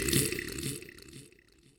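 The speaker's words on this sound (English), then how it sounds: "Drank it, said Drunky with a burp." A dwarf lets out a single loud, close burp in a story scene. It rumbles low and then fades over less than two seconds, with no other sound around it.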